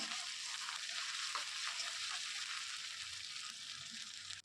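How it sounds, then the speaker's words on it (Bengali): Onions frying lightly in a pan with chopped green chilies and ginger paste, a steady soft sizzle with faint crackles running throughout, close and continuous without any talk. "এবার এগুলোকে একটু হালকা ভেজে নেব এই পেঁয়াজের সঙ্গে"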